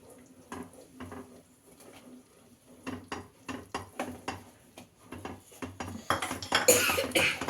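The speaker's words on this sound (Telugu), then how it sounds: "వేడి మీద బాగా మిక్స్ చేసుకోవాలి." A spoon works flour into melted butter in a hot pan for churros dough, making repeated close scrapes and clinks against the metal that build in pace and loudness toward the end, with no voices.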